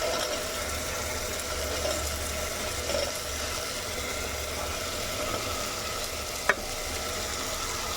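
Carrots, tomatoes and other vegetables with masala sizzling steadily in a pan for vegetable pulao, with a soft, continuous frying hiss, quiet stirring scrapes and one brief sharp clink near the end.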